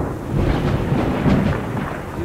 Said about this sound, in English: I don't like that thunder.